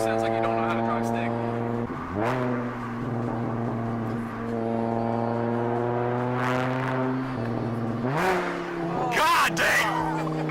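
A straight-piped car fitted with a G35 downpipe revs loudly, its exhaust note rising and falling through several pulls as people talk over it.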